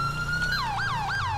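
Police car siren in GTA V, a wailing electronic tone that holds steady and then sweeps up and down in repeated yelps, loud and close with a low engine rumble beneath.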